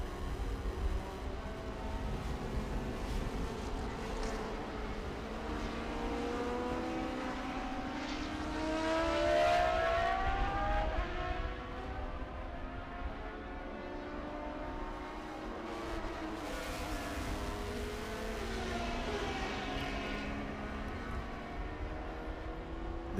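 Open-wheel Van Diemen RF97 and RF94 race cars at Road America run past together in traffic, a continuous loud engine roar with shifting pitch that swells and fades as they pass, no talk over it.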